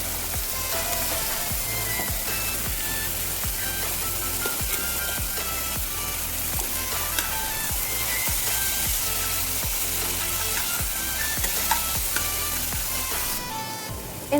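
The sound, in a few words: chicken mince frying in spiced oil with Kashmiri chilli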